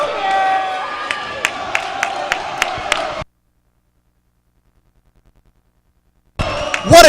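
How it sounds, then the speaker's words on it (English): Crowd cheering at a varsity high school hockey game between DRS and TABC after a goal: about three seconds of loud roaring with sharp whistles, a sudden drop to silence, then the cheering bursting back. "And the DRS crowd is back into this one."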